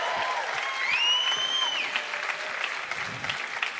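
Loud, sustained audience applause fills the room at a congregational teaching gathering, with a high whistling tone sounding briefly over the clapping early on.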